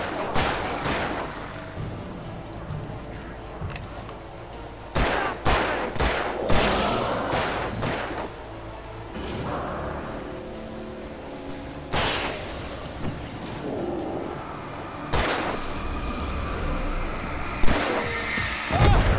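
Gunshots from Alan Wake ring out as loud single cracks, spaced irregularly across the stretch with a few in quick pairs, over a murky background of ambient game noise.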